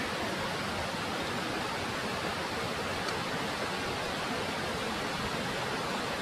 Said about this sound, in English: the waterfall that's going down